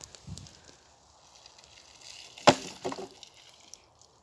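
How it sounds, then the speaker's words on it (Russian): A campfire burns inside a metal grill, giving a quiet hiss with scattered crackles and one sharp, loud pop, followed by a few smaller snaps. "Делаем костер в мангале."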